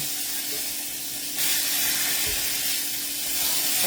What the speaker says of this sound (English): It is frying.